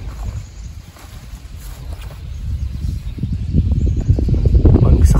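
Low, rushing wind rumble in a backyard vegetable garden that builds steadily and grows louder toward the end, with faint rustling on top.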